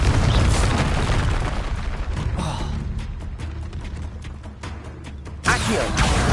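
Confringo blasting spell explosions in the Hogwarts Legacy video game, a dense run of booming, crackling bursts with mechanical creaks, loud throughout and surging again near the end, with no talk.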